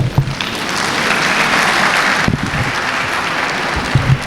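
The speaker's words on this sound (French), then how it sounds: "Et cela mérite une acclamation." Sustained audience applause and cheering at a graduation ceremony, a dense, loud wash of clapping from a large crowd with no speech.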